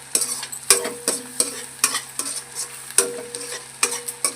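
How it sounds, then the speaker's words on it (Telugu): Onions fry for a mutton curry while a spoon stirs and scrapes the pan in a steady rhythm of sharp strokes over a low, constant sizzle. "ఆనియన్స్ కూడా బాగా ఫ్రై అవుతున్నాయండి"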